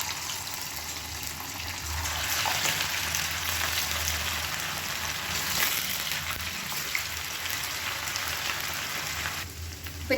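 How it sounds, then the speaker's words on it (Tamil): Marinated chicken pieces fry in hot oil, giving a steady, dense sizzle and crackle that runs loud and unbroken throughout with no talking. "இப்போ ஒன்றா போட்டு நம்ம பொரிச்சு எடுத்துக்கலாம்."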